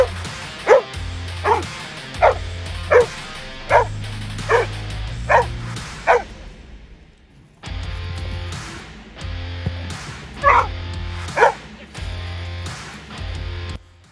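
A dog barks in bark and hold training, a steady series of loud, close barks at roughly half-second intervals, a short pause, then a few more barks with a low background hum.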